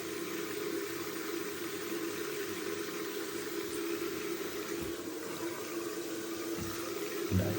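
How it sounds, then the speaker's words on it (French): Cold water runs steadily from a household tap, a continuous close hiss and rush of flowing water with no pauses and no speech. "si j'ouvre l'eau froide, je perds un peu en débit"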